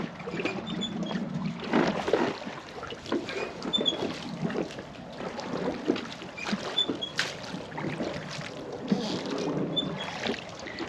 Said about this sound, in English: So we're gonna row in there.